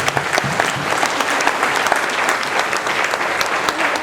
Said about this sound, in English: why don't we just give them a round of applause